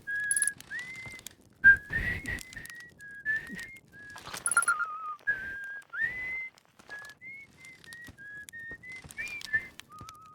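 Whistling in the video game Outer Wilds: a clear, melodic tune of sustained and gliding notes running continuously, mixed with occasional rustling bursts.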